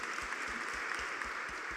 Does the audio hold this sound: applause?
yes